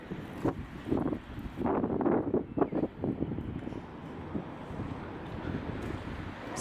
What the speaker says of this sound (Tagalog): ang hangin dito sa creek